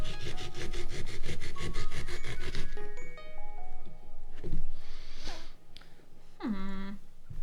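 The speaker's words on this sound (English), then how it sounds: "Just scraping with a knife." A knife scrapes rhythmically across the surface of a pumpkin being carved, a fast rasping stroke pattern that pauses and resumes in shorter scrapes, close to the microphone.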